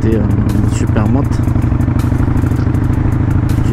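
A DR motorcycle rebuilt as a supermoto idles with a steady, close, throbbing single-cylinder beat and some mechanical clatter, with a brief rising rev near the start.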